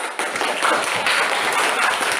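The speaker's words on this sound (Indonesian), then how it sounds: "tepuk tangan" Audience applause fills a classroom during a teaching-practice lesson, a steady dense patter of many hands clapping at even loudness from start to finish.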